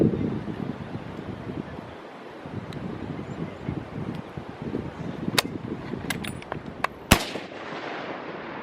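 Rifle fire while sighting in at a range: one sharp, loud report stands out over steady wind buffeting the microphone, with a few fainter cracks just before it.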